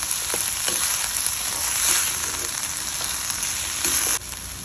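Corn stir-fried with dried shrimps, salt and sugar in a hot pan gives a loud, steady sizzle that runs the whole time, dropping slightly quieter just before the end.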